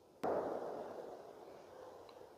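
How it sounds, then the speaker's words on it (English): A single sharp report cracks out early, then a long rolling echo decays slowly across the open air of a mountain road, sounding like a distant gunshot. "Oh, there's gunshots."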